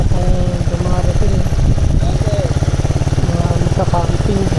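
A motorcycle engine idles close by with a rapid, steady throbbing pulse that runs throughout.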